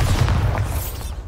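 A Bombarda blasting spell goes off in Hogwarts Legacy, a loud, close, rumbling boom that fills the moment and rolls on with a deep roar before slowly easing off.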